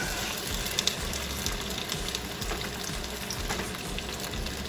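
Lean turkey sausage with casings removed frying in a pan, a steady crackling sizzle with scattered pops, continuous and close, with no voices.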